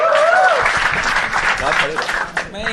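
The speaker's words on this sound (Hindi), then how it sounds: "शिवांश भाई के लिए जोरदार तालियां एक बार यार" Studio audience applauding a contestant at a live comedy talent show, dense clapping and cheers mixed with voices, steady and fairly loud throughout.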